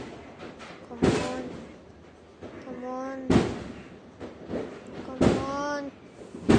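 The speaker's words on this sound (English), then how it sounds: "You can see those heavy fireworks." Heavy New Year's Eve fireworks burst outdoors in three loud, booming blasts spaced a couple of seconds apart, while people talk nearby between the explosions.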